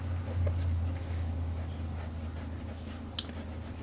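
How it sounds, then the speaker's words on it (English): A 2H graphite pencil drawing lines on paper, faint dry scratchy strokes in short intermittent bursts over a quiet low hum. "So I'm going to use a 2H pencil over top of this one."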